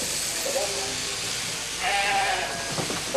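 Sheep bleating at a sheep-shearing show in farming country near Shrewsbury: a couple of short wavering bleats over steady background noise, with a voice briefly heard near the end.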